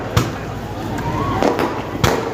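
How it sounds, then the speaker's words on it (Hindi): Firecrackers go off during a public gathering, sharp bangs at irregular intervals over steady crowd murmur and background noise, with three or four distinct pops spread across the moment. "ये जो पटाखेबाजी हो रही है ये हम नहीं कर रहे।"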